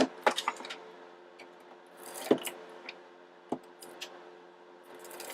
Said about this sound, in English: I'm just going to cut a very thin strip